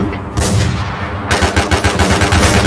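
Gunfire rings out in the shooter game Infestation: an opening loud shot, then a rapid burst of automatic fire with dense, punchy repeated cracks, close and loud with no talk.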